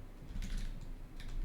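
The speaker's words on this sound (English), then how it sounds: "let me show you what exactly you type to connect as Bob" Quiet, close clicking of fingers typing on a computer keyboard, a short burst of scattered keystrokes with no talk.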